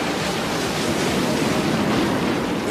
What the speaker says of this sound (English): The sound of the waves was deafening, thundering.